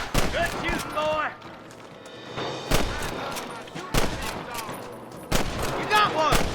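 Video game gunfire cracks out in sharp, loud bursts, several separate shots spaced across a few seconds with ricochet-like tails, while game voices talk between them.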